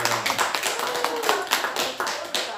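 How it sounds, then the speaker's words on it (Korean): A small audience claps in a laughter therapy session, a brief burst of uneven hand claps that thins out after a couple of seconds, close and fairly loud. "박수."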